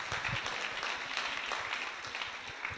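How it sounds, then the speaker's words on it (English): Audience applause at a Mahasamadhi Day gathering in Bradford, a steady dense clatter of many hands clapping that holds evenly for the whole stretch, fairly close and without speech. "Round of applause"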